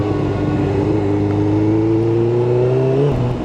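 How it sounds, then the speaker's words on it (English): Steady engine drone from a motorbike being ridden through road traffic, loud and continuous with a rising then falling engine tone, a slight change near the end; no talking. "let me get out of this traffic"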